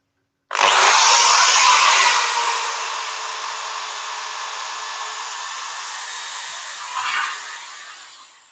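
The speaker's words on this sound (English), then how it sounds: "So I'm sanding up to 400, seeing as I'm going to colour the top." A steady, close rasping whir of a power sander on a wooden top, working up to 400 grit, starts abruptly, loud at first then easing, with a brief swell near the end before fading.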